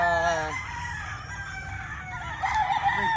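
A Bruce Barnett Sweater gamefowl rooster lets out a loud, drawn-out crow up close at the start, with softer crowing and clucking from other birds nearby afterward.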